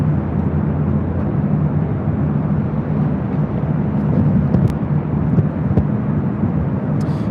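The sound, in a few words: Delta Boeing 767-300ER airliner at LAX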